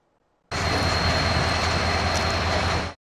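A freight train carrying wheat and scrap near Üzümlü in Erzincan, Turkey, gives a loud, steady rumbling roar that starts abruptly and holds for about two and a half seconds before cutting off.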